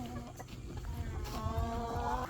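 Farm chickens clucking and calling continuously, several birds at close range, with overlapping squawks over a steady background.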